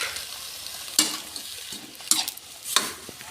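Shrimp and squid frying in a pan, with a soft steady sizzle and three distinct stirring scrapes spaced about a second apart, close and without talk.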